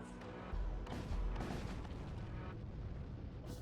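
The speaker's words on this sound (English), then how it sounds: "Flare cannon." A flare cannon fires in the game Void War, a deep booming blast followed by a second heavy thud and rumbling, crackling aftermath, moderately loud, with game sounds and no speech.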